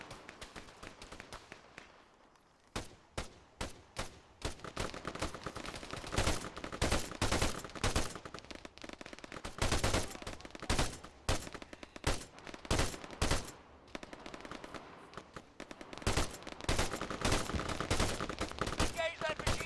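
Machine gun fire in the combat video game Arma 3 crackles in repeated bursts and scattered shots, some close and loud, others farther off, continuing throughout with brief pauses between volleys.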